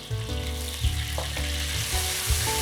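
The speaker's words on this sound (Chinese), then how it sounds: "炒锅中倒入色拉油， 烧到6-7成热时，放入生姜片和豆瓣酱，" Ginger slices and chili bean paste sizzle steadily in hot oil in a wok, a close, continuous frying hiss with occasional stirring noises and no talking.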